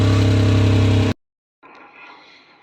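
Daewoo Matiz small car with a damaged muffler, its engine droning loud and raspy up close for about a second, then cutting to silence before a fainter, hollow running noise returns.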